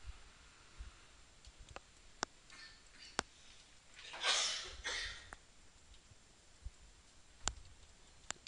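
Sharp mouse clicks on a computer, several single clicks spaced out across a quiet room, with a brief louder burst of handling noise in the middle.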